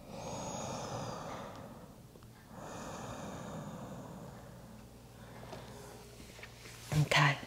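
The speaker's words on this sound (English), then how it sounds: "just take one more deep inhale and exhale here in butterfly pose." A slow deep inhale followed by a long exhale during a bedtime yoga session in butterfly pose, two broad soft breath swells, close and steady.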